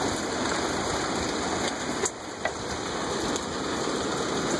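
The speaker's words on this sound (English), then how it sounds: "It's raining and blowing down here in Lower Florida." Steady rain with wind at night in Lower Florida, a dense constant hiss of rainfall on surfaces with a couple of brief louder drops, close and continuous, no voices.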